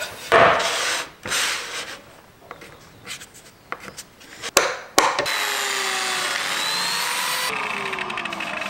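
A power tool recutting a piece of wood for a display cabinet: brief bursts of rubbing and cutting, then a sustained whining cut that runs steadily for the final few seconds, close and fairly loud.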